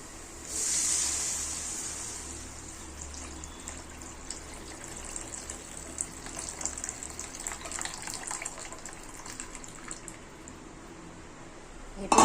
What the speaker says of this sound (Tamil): புளி தண்ணியை நம்ம சேர்த்துக்க போகிறோம்